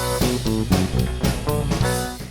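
An unamplified electric guitar chugs through a heavy riff, sounding thin and plinky, with evenly spaced palm-muted strums and chords, close and alone with no talking.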